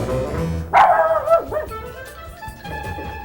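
A voice imitates a pack of barking dogs in a comedy scene, giving several loud, close yips and bow-wows over steady background music.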